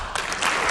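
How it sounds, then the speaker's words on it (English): Audience applause at an Apple keynote announcing the Apple Watch and iPhone 6, a dense burst of clapping that rises and swells over under a second. "I can't believe he's getting applause for that"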